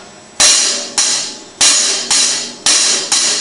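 Repeated hi-hat strokes played with the Moeller technique ring out in pairs, each bright crash decaying before the next, a loud, close, unhurried pattern with no talking.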